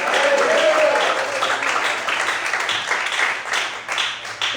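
A church congregation claps together in praise, a dense, steady wash of applause held at a fairly constant level, with faint voices mixed in underneath.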